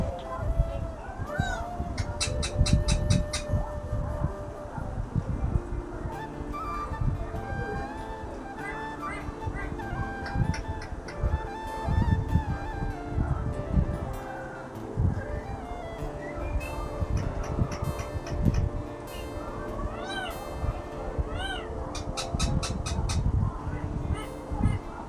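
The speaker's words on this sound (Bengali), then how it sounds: "আর আমার পাখি কিরকম ডাকছে, তোমরাই শোনো।" A pet bird calls repeatedly in short bright chirping bursts, close by, mixed with household background noise and some talking.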